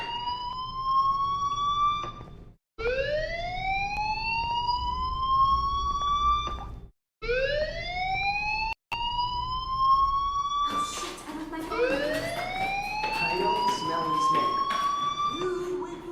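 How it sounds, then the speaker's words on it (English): A fire alarm in the video game Life is Strange wails loudly in repeated rising sweeps with short breaks, while a voice speaks underneath it. "do you hear that fire alarm? That means you should be outside."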